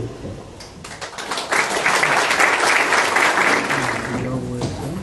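Applause from a conference audience in Peru swells after a quieter opening and then holds as dense, steady clapping through most of the stretch, with a faint voice underneath near the start.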